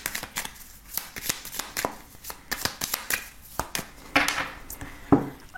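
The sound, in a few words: tarot cards being shuffled and cut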